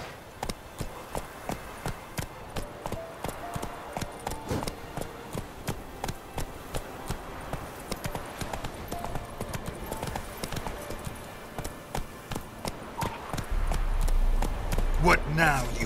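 Roach, the horse in the video game The Witcher 3, trots with steady, regular clip-clop hoofbeats close by, joined near the end by a low rumble and voices talking.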